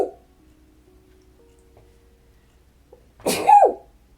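A single loud sneeze bursts out near the mic after a quiet stretch with faint low hum, sharp and brief with a trailing breathy tail.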